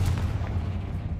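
A Confringo spell explosion in a Harry Potter video game, a single heavy, deep boom with a rumbling low tail that fades over about a second.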